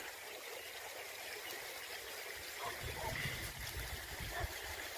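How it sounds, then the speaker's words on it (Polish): Small mountain stream flowing, a soft steady rush and trickle of water that grows a little fuller and more gurgling partway through, quiet and without talking. "Ciekawe ile litrów na sekundę przepływa przez taki potoczek."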